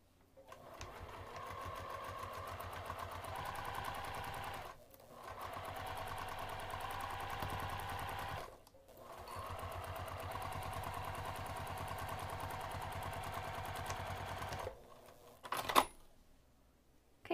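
A sewing machine stitches a half-inch seam on a bag in steady, rapid runs of mechanical whirring and clatter, pausing twice briefly before stopping, followed by a short click and knock.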